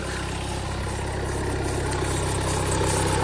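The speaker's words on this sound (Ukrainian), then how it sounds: "Машинка холодна, якийсь ролик тре, да?" Cold 2016 Skoda Yeti engine idling with a roller rubbing, a steady low hum and faint whirring heard up close with no voices, holding even and slightly swelling toward the end.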